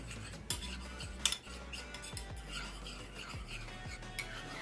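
Hair-removal paste being stirred and combined in a bowl, with repeated scraping and clinking strokes of a utensil against the container, close and steady, with no voices.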